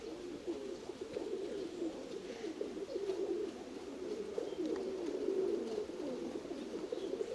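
A pigeon coos softly and repeatedly in a low, rolling murmur over a faint steady background hiss.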